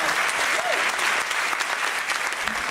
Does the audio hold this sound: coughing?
no